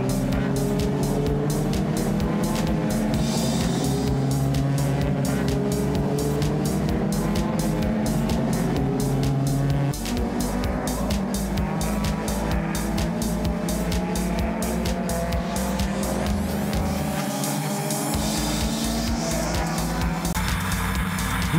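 Race cars roar continuously around a track, engines revving and shifting with repeated passes and a brief lull before the din resumes, loud and sustained throughout.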